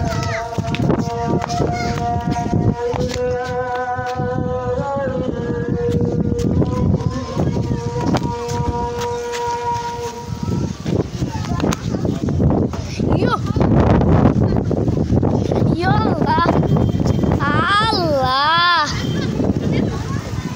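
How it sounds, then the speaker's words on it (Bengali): Strong wind rushes and buffets the microphone throughout, with people talking and exclaiming over it and a tonal whine rising and falling near the end. "ও গাছ যে বাতাস আজকে"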